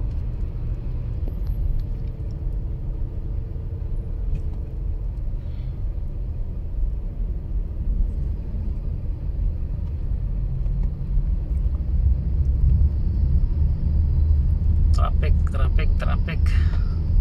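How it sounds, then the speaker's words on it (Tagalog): Steady low road traffic rumble of slow-moving vehicles, continuous and fairly loud from start to finish, with a brief burst of sharper noise near the end. "Traffic."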